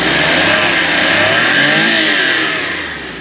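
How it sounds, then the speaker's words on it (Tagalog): A Suzuki Every Wagon's engine revs up loudly and holds a high, strained whine before easing off at the end, heard close with no voices. "So check natin yung power ng ating makina."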